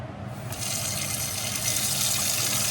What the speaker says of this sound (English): I'm just gonna add in my water here to my pot